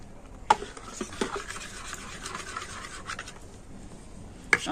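A spoon whisks salted rice batter in a bowl, brisk scraping and stirring strokes in an irregular rhythm, close and fairly quiet, with a couple of sharp knocks against the bowl.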